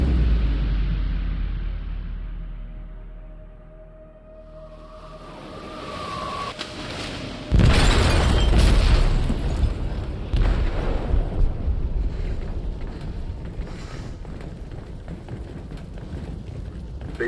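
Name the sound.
explosion sinking a ship in video game Detroit Become Human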